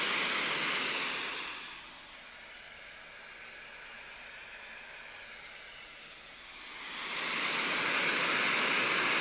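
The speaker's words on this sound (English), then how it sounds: "we're gonna use some white noise" A white noise test signal plays toward a Saramonic SR-HM7 dynamic microphone: a loud, steady broadband hiss that dips noticeably in level through the middle of the clip, then swells back to full strength.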